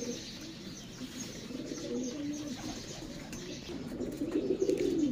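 Salara Teddy breeder pigeons coo softly and steadily in a low murmur, with faint chirps and wing rustles, growing a little louder toward the end, with no voices.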